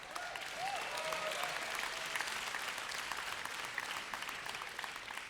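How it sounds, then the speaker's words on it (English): Applause from a large audience in a conference hall, dense and continuous throughout, steady and fairly loud with no voices on top. "Huge claps."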